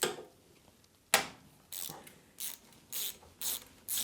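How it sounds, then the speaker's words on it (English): A ratchet clicks inside a Suzuki Savage motorcycle's cam chain tensioner housing. A sharp click is followed by a burst of quick ratcheting clicks, then several more short clicking bursts at fairly even intervals, close and clear with no talk. "right there you can hear the ratchet mechanism that is inside this housing"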